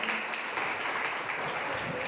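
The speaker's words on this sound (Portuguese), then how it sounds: "Vamos aplaudir o Senhor" A church congregation applauds during a worship service, a continuous wash of clapping heard at some distance, steady and even throughout.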